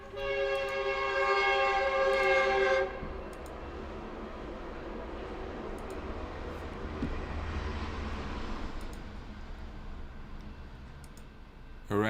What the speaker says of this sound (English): Let's let the train pass.